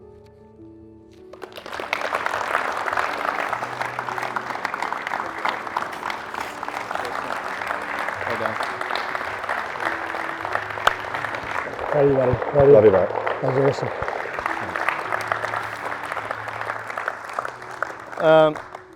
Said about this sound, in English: Keep the applause going for Greta, if you would